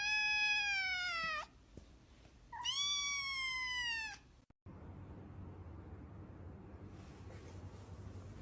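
A cat lets out two drawn-out meows, loud and close, separated by a short pause, then gives way to quiet background hiss.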